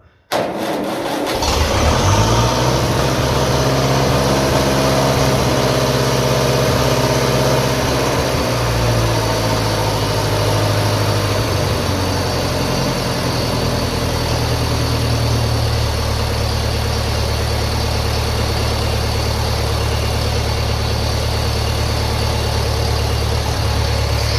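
A 1957 Ferguson FE35 tractor running on TVO cranks and catches, then settles into a loud, steady idle close by, its pitch shifting slightly as the throttle is adjusted.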